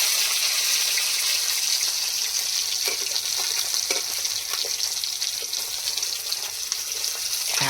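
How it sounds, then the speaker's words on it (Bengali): Fish frying in a pan of oil at a late-night picnic, a loud, continuous hissing sizzle with occasional crackles, steady throughout and without talk. "মাছ ভাজা সবে স্টার্ট হয়েছে"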